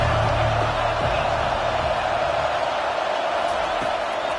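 Stadium crowd noise from a college football video game, a dense, steady roar that stays loud and unbroken throughout, with no clear individual voices standing out.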